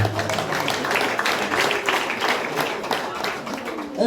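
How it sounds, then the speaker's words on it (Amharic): Church audience applauding a contest winner, a dense wash of many hands clapping at moderate loudness, steady throughout with a few voices mixed in. "አጨብጭቡለት።"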